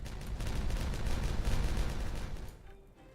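Explosives detonating in Timberborn, a dense rumbling crackle of blasts that swells loud and then fades out quickly.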